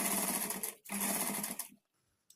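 A sewing machine runs in two quick bursts of stitching along a blouse fabric edge, close and steady, stopping briefly in between and then falling quiet.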